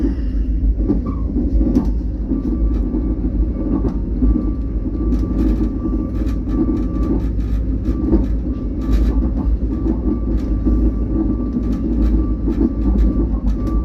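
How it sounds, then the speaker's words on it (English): A special express sleeper train running from Chiang Mai to Bangkok rolls along with a constant low rumble and rhythmic rail clicks, heard steadily from onboard with no talk. "Now this is a special express train, so we're not making all the stops along the way."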